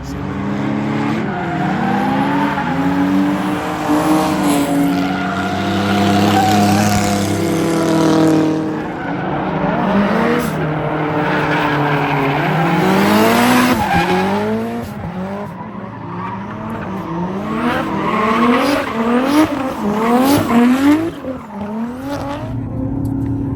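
A drift car links turns on a race track, its engine revving loudly while tires squeal in long, rising and falling wails through each slide.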